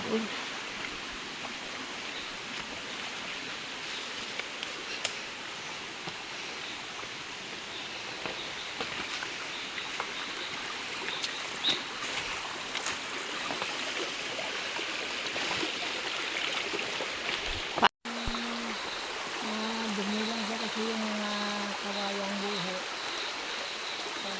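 A creek flows in an outdoor natural setting with a steady, soft rushing and trickling wash, plus scattered light bumps and a brief cutoff near the end, with no talking.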